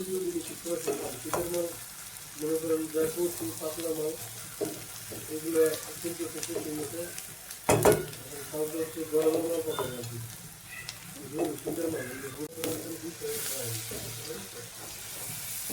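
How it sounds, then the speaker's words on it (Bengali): Shrimp frying in a pan at home, with a steady sizzling hiss that runs through the whole stretch and brief clatters and stirring sounds on top, close and moderately loud. "চিংড়ি মাছটা একটু ভাজা ভাজা করে নিই তারপরে মশলা দিয়ে দিলে ভালো লাগবে"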